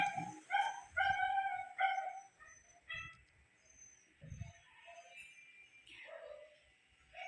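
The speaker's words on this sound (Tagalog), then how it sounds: "Yung aso namin guys, napaka ingay." A dog barks repeatedly at close range, a run of sharp yips and barks followed by whining and a drawn-out howl-like whimper.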